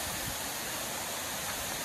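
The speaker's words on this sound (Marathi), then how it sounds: "धबधबा" A waterfall behind the Chhatrapati Shivaji Maharaj temple gives a steady, even rush of falling water, faint and unbroken throughout with no voices.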